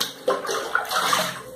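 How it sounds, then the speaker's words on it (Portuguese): Water pours into a bucket for cleaning a bathroom, a brief, close, steady rushing gush with no talk over it. "colocar água aqui dentro desse balde."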